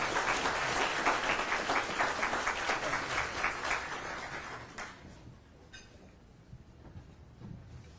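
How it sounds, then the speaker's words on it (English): An audience at the Irondale State of the City address gives Mr. Davis a round of applause. Dense clapping lasts about five seconds, then fades into a quiet room with a few stray sounds. "So everybody give him a round of applause."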